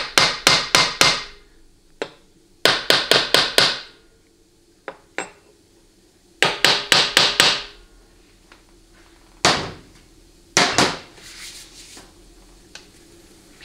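Repeated hammer blows seat a part on a 4L80E transmission's deck surface, coming in quick bursts of four or five sharp strikes separated by pauses and scattered single taps, loud and close with a metallic ring.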